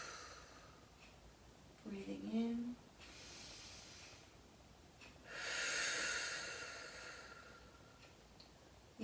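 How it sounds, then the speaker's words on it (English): Two breaths taken during a stretching class: a short airy intake, then a longer, louder hissing inhale that swells and fades, with a brief spoken voice between them and quiet room tone around. "One more breath."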